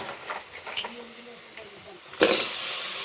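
Crabs are stir-fried for a village-style crab curry on a wood-fired clay stove. Soft stirring and light sizzling give way to a sudden loud, hissing sizzle that keeps going to the end, with a faint voice in the background.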